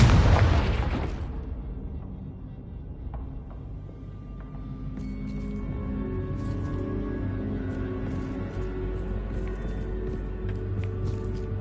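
A Confringo curse from the Hogwarts Legacy video game detonates in a single loud explosion at the start, its roar decaying over about two seconds into quieter in-game ambience and faint clicks.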